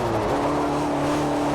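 A Peugeot 205 T16 race car in Forza Motorsport 4 holds a strong steady engine drone, loud and close, with a faint tyre scrub under it.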